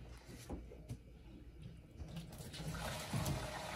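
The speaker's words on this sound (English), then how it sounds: "and then just siphon the water" Water from an RO holding tank in a garage runs through a siphon hose, a faint trickling and gurgling that grows into a steadier flowing wash toward the end, with a few soft knocks.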